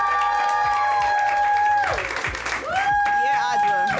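An audience applauding at an open mic night at the Nuyorican Poets Cafe, a short burst of clapping and cheers mixed with loud voices calling out.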